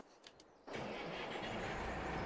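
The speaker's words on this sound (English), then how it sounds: "It's one of my most favourite tractors on the game, and it makes a beautiful noise as well." A tractor engine in Farming Simulator 22 cranks and catches at about two-thirds of a second, then settles into a steady, loud rumbling idle with no voices.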